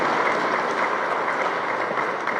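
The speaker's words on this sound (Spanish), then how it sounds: "denles un aplauso" A congregation at a Sunday church mass applauds in a dense, steady wash of clapping that holds at an even level throughout, with no talk over it.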